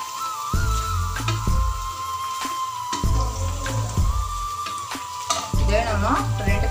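Large onions for chicken biryani are stirred in a pan, with a steady rhythm of spatula scrapes and clatters repeating every second or so over a low background hum.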